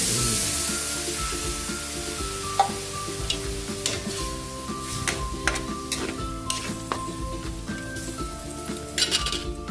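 Bicol Express with shrimp paste and coconut milk cooks in a pan with a close sizzle and bubbling, broken by frequent sharp clinks and scrapes of a utensil stirring against the metal, with no voices.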